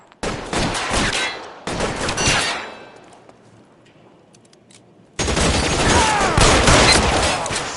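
Gunfire in the video game L.A. Noire, two loud bursts of rapid shots, a quieter lull, then a sustained heavy fusillade, close and alone without speech.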